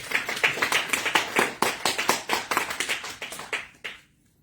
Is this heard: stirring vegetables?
no